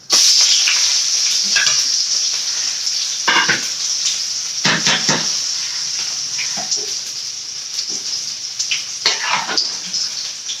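Dried red chillies frying in a pan, a loud continuous sizzle with bright hissing crackle, stirred now and then with scraping bursts, close and steady throughout.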